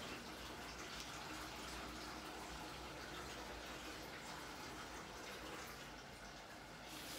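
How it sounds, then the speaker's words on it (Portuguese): Water running steadily from a kitchen tap while washing onions, hot then cold, a constant soft, rushing stream heard alone and fairly quiet. "depois boto um pouquinho de água quente e lavo bastante com água fria"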